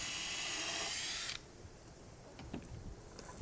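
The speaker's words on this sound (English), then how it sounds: "I pre-drilled all the holes and countersank the screws." Drill boring pilot holes and countersinking screws in wood pieces for a small workshop storage build; a loud whirring burst that stops abruptly, followed by quieter handling clicks and knocks nearby.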